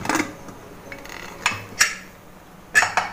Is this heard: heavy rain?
no